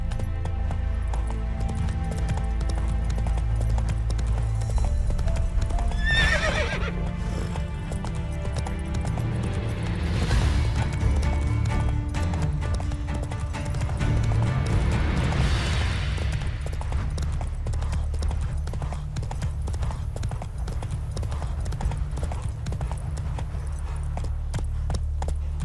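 Horse galloping in The Witcher 3, a steady rhythmic hoof clatter with low rumble running throughout, broken by a couple of brief brighter bursts that could be neighs.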